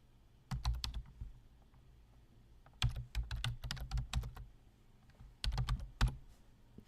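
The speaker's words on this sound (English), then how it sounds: "So let me type in a password for this account." Three quick bursts of typing on a computer keyboard while a password is entered, crisp close key clicks separated by short quiet pauses.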